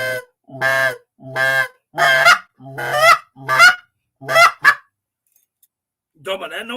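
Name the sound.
goose call blown imitating geese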